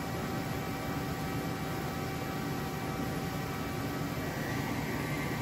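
An Okuma V80R CNC vertical lathe spins at 200 RPM, a loud, steady broadband whir and rushing noise with a faint tonal hum, unchanging throughout with no talk.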